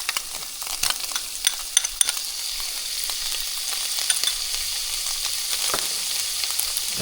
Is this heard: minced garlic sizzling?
yes